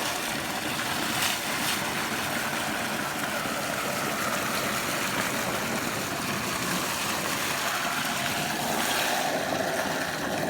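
A shallow tube-well irrigation pump engine runs with a steady, droning, noisy rumble that holds constant the whole time, close by and without talk.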